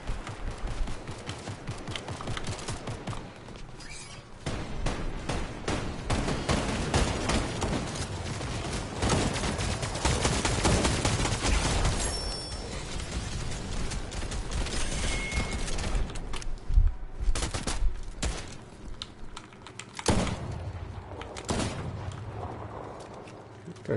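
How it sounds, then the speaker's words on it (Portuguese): Gunfire in the video game Fortnite: dense, rapid bursts of shots and heavy impacts that run nearly nonstop, loud and close, with mechanical clatter mixed in and a few brief pauses. "Tem um barulho de tiro."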